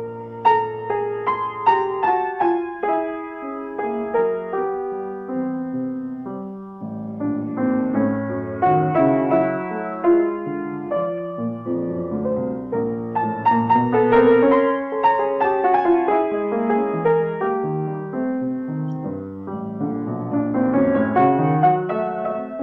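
Solo piano plays the second theme of the main section of Prokofiev's Sonata No. 8, a lyrical melody over moving chords with clear sustained notes and gentle swells, heard alone without talk.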